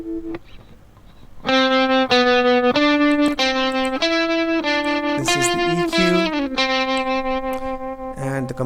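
Distorted electric guitar with a saturation effect and no EQ plays sustained, saturated notes in a slow melodic line, gritty and bright with a burst of bending pitches near the end.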